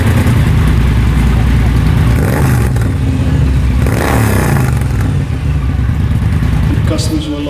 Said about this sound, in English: keeping the full sound of the engine without wrong noises